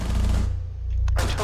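Bursts of gunfire in Rainbow Six Siege on a Fortress map: a loud, dense volley at the start, a short gap, then a second burst near the end, all over a steady low game hum.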